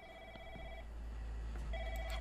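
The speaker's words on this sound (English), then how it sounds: "Oh, the phone's ringing." A telephone rings in a horror video game, two bursts of an electronic trilling bell separated by a pause, clear and moderately loud over a low background hum.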